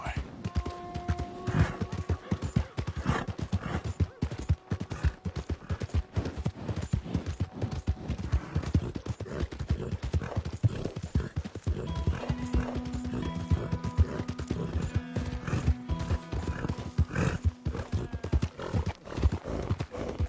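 Horse hooves clip-clopping in a steady, continuous rhythm, close and prominent, with a voice urging the horse on and occasional whinny-like sounds.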